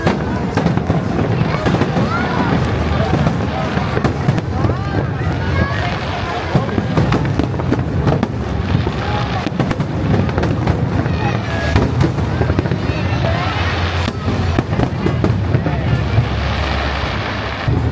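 Fireworks boom and crackle continuously with dense bursts during a pyromusical competition at Seaside Boulevard, SM Mall of Asia, heard at a distance amid crowd chatter and people talking nearby.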